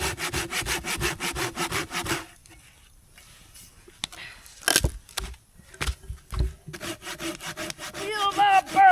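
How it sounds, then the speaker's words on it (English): A dull handsaw rasps through wood at a winter campsite in steady back-and-forth strokes for about two seconds, pauses amid scattered knocks and handling, then resumes rough, close sawing. "Cutting with a dull saw is so much fun."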